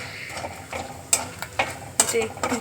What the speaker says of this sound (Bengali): এই যে এই কাজু দিয়ে দিলাম কাজুটা বেশি ভাজতে লাগবে না অল্প ভাজলেই হয়ে যাবে